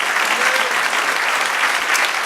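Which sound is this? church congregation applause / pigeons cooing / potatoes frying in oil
church congregation applause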